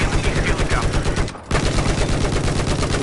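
Dense, loud automatic gunfire from the video game Battlefield 4 rattles in rapid continuous bursts, cutting out briefly for a split second before resuming just as heavily, with no clear talk over it.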